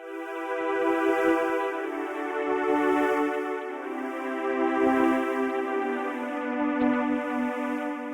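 A MicroFreak synthesizer sequencer pattern repeats steadily, its layered tones pulsing in a looping rhythm, played alone without speech.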